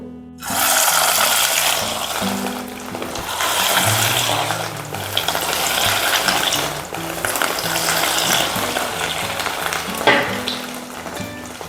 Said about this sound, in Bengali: এবারে আমরা তেলের মধ্যে বলাগুলোকে ছেড়ে দেব